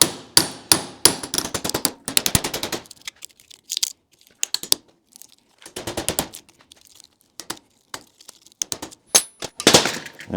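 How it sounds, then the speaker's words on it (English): A small chisel struck by a hammer breaks a transformer coil loose during scrapping, giving irregular sharp metallic clanks and taps in scattered clusters with quiet gaps, close and moderately loud. "Now I take a little chisel and a hammer, and I go in the back side of the coil"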